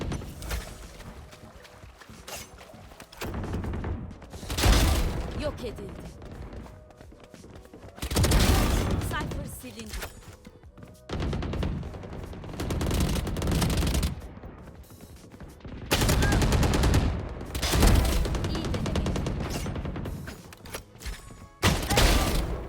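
Spectre submachine gun bursts in Valorant, a Sihirpunk-skinned weapon, firing in repeated loud automatic bursts of several seconds each, separated by short quieter gaps filled with game ambience.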